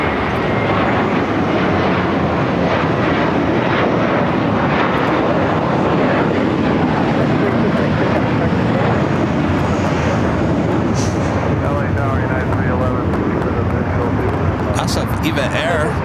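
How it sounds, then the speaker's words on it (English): A China Cargo Airlines Boeing 777 freighter on a takeoff roll at LAX, a loud sustained jet engine roar filling the clip, with a voice talking over it. "the China Cargo Airlines flight 222 heading back to Shanghai in a 777 freighter"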